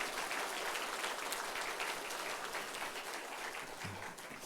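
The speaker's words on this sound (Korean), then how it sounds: "우리 하나님께 영광의 박수 한번 더 돌리겠습니다" Sustained applause from a church congregation honoring the choir after a Sunday worship hymn, a steady dense roar of many hands clapping throughout without pause.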